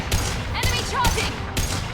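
Gunfire in the Mass Effect 2 video game during a fight with a charging Krogan: three or four loud bursts of shots at roughly half-second gaps, with voices talking through the action.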